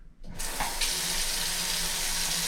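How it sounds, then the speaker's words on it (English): Cold water runs from a kitchen tap into a sink while shirataki noodles are being rinsed, starting after a brief quiet moment and then pouring as a steady, close hiss that continues without any talk. "We're going to keep cold water going"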